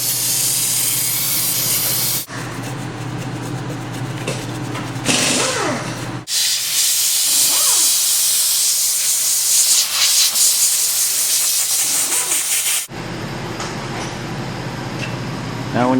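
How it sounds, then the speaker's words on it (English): Brake cleaner sprays from an aerosol can onto the axle of a 1965 Mustang, making loud, steady hissing bursts of several seconds each, broken by short gaps. "just take a can of brake clean and spray everything down real good"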